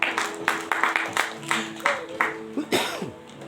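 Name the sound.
congregation applause, hand clapping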